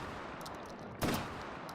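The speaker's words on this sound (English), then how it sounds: "Yeah, I was shooting buckshot" A single M1014 shotgun loaded with buckshot fires once in a VR video game, a short sharp report rising briefly over a steady background hiss.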